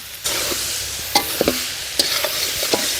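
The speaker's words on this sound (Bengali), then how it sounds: "তেল নলি ভালো করে মশলার সাথে সমস্ত কিছু মিশিয়ে নেব" Mutton being tossed with oil and spices in a pan, a continuous sizzle broken by several distinct scraping and stirring knocks, fairly close and with no voices.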